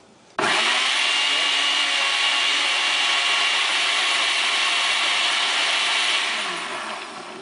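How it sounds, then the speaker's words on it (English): A drink blender purees sauce ingredients in one loud, continuous whir that starts suddenly and holds steady before gradually winding down at the end. "This isn't the best blender for it, but it's a drink blender, but it works fine."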